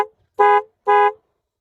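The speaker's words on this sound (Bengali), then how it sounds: "ডেন্সো হর্ন লাগানো আছে" Denso horn fitted to a Yamaha R15 V3 motorbike sounds two short, bright blasts close by, separated by a brief pause, with nothing else audible.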